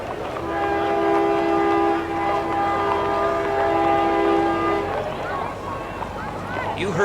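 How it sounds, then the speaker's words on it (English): Union Pacific train horn sounding in the distance during a frontier days parade, several long sustained horn blasts over about five seconds, then fading into background crowd murmur and outdoor ambience. "You heard the sounds in the distance of a train"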